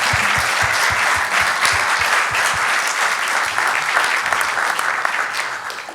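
A conference audience at an architecture and building-envelope event applauds at the close of the talks, a dense, loud, continuous round of clapping from a large crowd that holds steady for the whole stretch.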